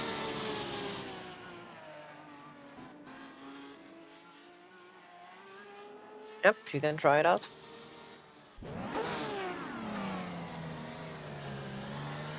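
Turbocharged car engine in a racing video game, droning and rising in pitch as it revs, with a brief burst of tire squeal midway and a voice speaking over it.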